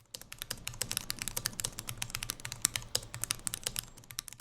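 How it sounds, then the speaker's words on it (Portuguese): Rapid typing on the loud tactile keyboard of an Avell Storm X gaming laptop with an RTX 4090, its clicky keys resembling blue mechanical switches; dense, continuous close-up clatter of sharp keystrokes with no voices. "É um teclado muito barulhento, se assemelha a um switch blue de teclado mecânico tradicional."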